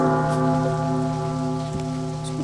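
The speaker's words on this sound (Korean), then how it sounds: "비가 와." Steady rain falls in a horror video game, a dense continuous hiss running the full length over a sustained musical drone, with no talking.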